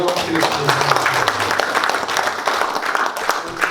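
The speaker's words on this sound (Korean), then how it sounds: "자, 다시 한번 큰 박수로" Audience applause at a Korean hospital health lecture on cardiovascular disease, a dense, steady clapping crowd lasting several seconds, loud and continuous with a few voices mixed in.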